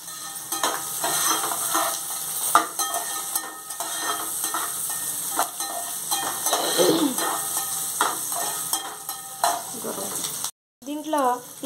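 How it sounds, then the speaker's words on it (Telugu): Onions and chilli frying in a pan for a chicken curry, giving a continuous close sizzle with frequent spoon scrapes and clinks. A short gap of silence comes near the end, followed by a brief burst of sound. "దీంట్లో ఇప్పుడు ఆనియన్స్, చిల్లీ వేసుకొని ఫ్రై చేసుకుంటున్నాం"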